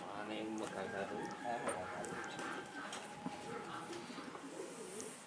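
Homing pigeons imported from the Netherlands coo softly and repeatedly close by, under continuous conversation between people.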